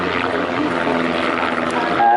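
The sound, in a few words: aerobatic propeller aircraft flying at air show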